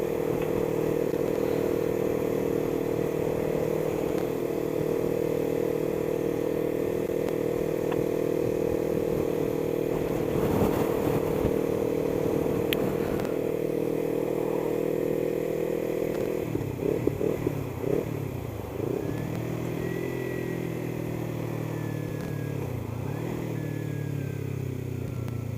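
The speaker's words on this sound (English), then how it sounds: "Just listening to the exhaust, riding around." A Kawasaki Ninja 300 with a Two Brothers exhaust drones continuously while riding, a low exhaust rumble, shifting pitch briefly midway as the ride carries on, no voices.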